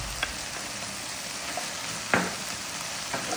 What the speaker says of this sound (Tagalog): Ngayon, add ko na itong onion.